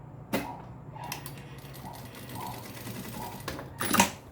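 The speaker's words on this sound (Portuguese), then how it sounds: "Eu vou dar só uma costurinha aqui de segurança" A sewing machine runs a short securing stitch through fabric for a small backpack, with a few quiet clicks and brief whirring bursts of the needle, ending in a sharper mechanical clatter, near and fairly faint.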